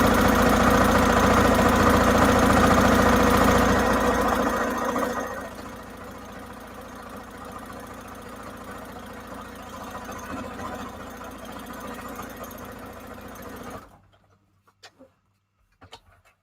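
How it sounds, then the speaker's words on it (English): Sewing machine stitching a zigzag on a junk journal cover made from scraps, a loud continuous mechanical whir that drops to a softer steady hum before stopping, followed by a few faint clicks. "Let me do another zigzag, another stitch here."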